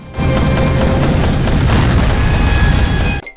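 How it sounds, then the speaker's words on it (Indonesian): Bombs explode in a film as a loud, continuous rumbling blast that fills the whole span, dense low booms and crackling debris, cutting off abruptly at the end. "Barni pun terpaksa meledakkan semua bom yang ada di istana tersebut"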